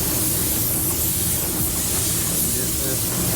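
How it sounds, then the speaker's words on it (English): A Porphis PRD-717 split-tip spray gun coats the inside of a GM car fender on a stand, giving a steady, loud, continuous hiss of spraying that runs unbroken through the whole stretch. "These GM fenders are fun to spray, aren't they?"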